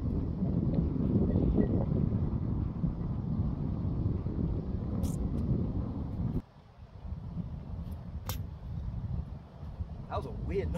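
Steady wind buffets an outdoor microphone, a broad low rumble that drops off briefly partway through, with faint scattered clicks and knocks over the gusts while someone throws a stick.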